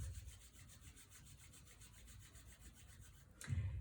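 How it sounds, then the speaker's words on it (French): Palms rub together in a steady self-massage exercise, a soft rhythmic swishing friction that runs continuously and close, ending in a brief louder brush. "C'est bien, on se frotte les mains."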